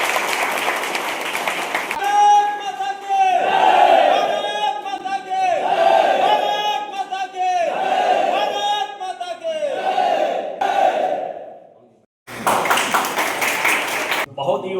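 A crowd claps and cheers loudly in repeated swelling bursts, with whoops and shouts over the applause, briefly cutting out before another burst of clapping.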